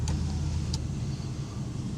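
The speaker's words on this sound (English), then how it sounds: "Listen to the truck. It's running normally healthy again." An oilfield truck's engine idles steadily in a low, continuous rumble, close and even, with a couple of brief clicks on top and no talking.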